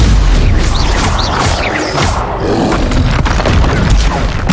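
Confringo fire spell blasts in Hogwarts Legacy, a dense booming explosive burst with crackling debris and whooshing spell effects, loud and continuous through the clip amid ongoing combat.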